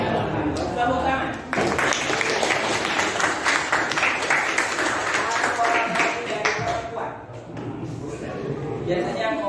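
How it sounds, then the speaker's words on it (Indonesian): A classroom group of students and teachers claps together, a burst of uneven, close handclaps that swells, dips briefly and continues, with some voices mixed in. "Tepuk tangan."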